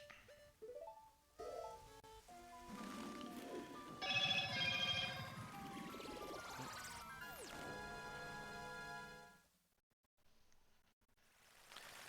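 Mobile phone ringing: a steady electronic ringtone sounds for several seconds over other busy background sound, then cuts out abruptly near the end.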